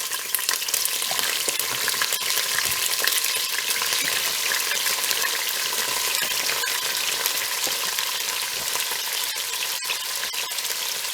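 Chopped leeks are sautéed in a pot for bread soup, making a bright, continuous sizzle with frequent stirring clicks and scrapes, close and fairly loud, with no one talking.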